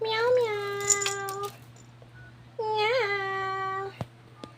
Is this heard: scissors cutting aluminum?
no